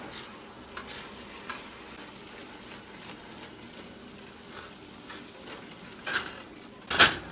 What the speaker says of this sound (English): We're going to add another third of our stock.